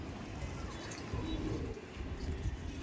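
Madrasi pigeons cooing softly in a loft, low throaty coos repeating under a faint background murmur.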